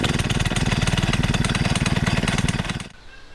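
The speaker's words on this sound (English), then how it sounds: "the first time you're going to start your engine when receiving it is to let it run at idle for 5 minutes" A PCW5000 gas-powered winch engine runs close and loud with a fast, steady chugging beat, then cuts out sharply near the end, leaving quiet background.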